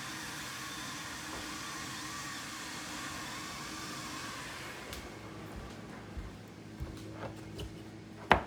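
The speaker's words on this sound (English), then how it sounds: "You could probably hear the canner." A constant steamy roar of water boiling hard in a large canner on a stove, with a few faint clicks and knocks near the end.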